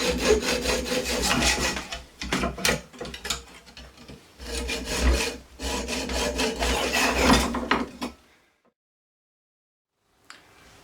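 Rhythmic rasping strokes of a hacksaw cutting corners off a metal Moto Guzzi Le Mans III top yoke, close by, in several bursts with short pauses, then stopping into near silence.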